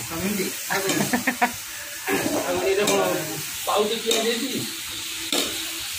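Onions fry and sizzle in a pan during Odia chicken cooking, with stirring scrapes and bursts of hiss recurring through the clip, while people talk over the kitchen sounds.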